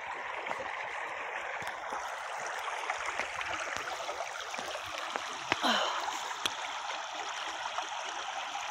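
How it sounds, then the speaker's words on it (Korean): A stream flowing beside a walking path: a steady, soft rushing and gurgling of water throughout, with one brief sharper splash midway. "이게 물 흐르는 소리 들으면 기분이 좋아지더라고"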